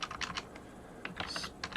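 A computer keyboard clatters in short, quick bursts of keystrokes as a terminal command is typed, close and fairly quiet, with brief pauses between runs of keys.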